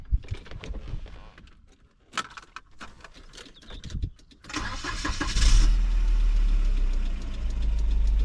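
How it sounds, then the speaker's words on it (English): A 30-year-old 1990s Volvo 945 is started after some keys jingle and faint handling noises. The engine cranks, catches and settles into a steady, close idle. "All right, I'm gonna start up the car."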